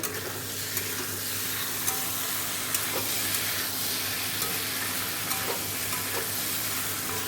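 Soya chunks sauté in a pan with a steady, even sizzle and a few faint scrapes of stirring, moderately close and with no talking.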